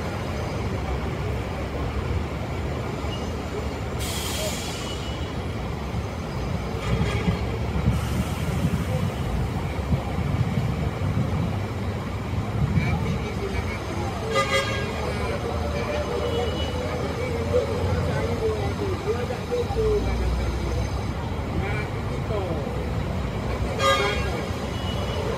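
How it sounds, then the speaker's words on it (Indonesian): A Karina double-decker bus pulls out of Kampung Rambutan terminal on its Jakarta to Sumenep, Madura route. A steady engine rumble fills the bus station, with a few horn toots and faint voices in the background. "Karina double deck kembali diberangkatkan menuju Sumenep Madura."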